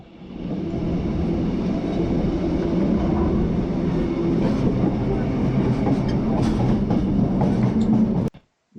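A steam train rolls along the rails near Brisbane, a steady close rumble and rattle of carriages lasting several seconds before cutting off abruptly, with no voices.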